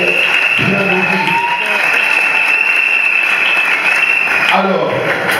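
Loud, sustained applause and cheering from a crowd at an official album launch, with a steady high whistle-like tone running through most of it and a voice briefly audible at the start and near the end.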